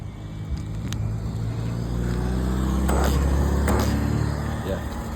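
XRT RC truck with 12S belt drive and Hobbywing motor being driven, a rushing whir and rumble that swells in the middle with brief sharp clicks and rattles, loud and close throughout.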